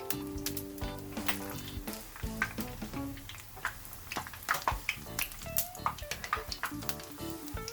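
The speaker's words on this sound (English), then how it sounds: "Once I have finished frying all the dough" Tofu donut dough frying in hot oil, a continuous crackling sizzle with bursts of bubbling and scattered clinks of a utensil against the pan, close and moderately loud.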